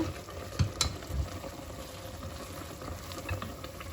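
Chickpea kercha in tomato sauce simmering in a pot, a steady low bubbling with soft pops and a few brief stirring clinks, alone and moderately quiet.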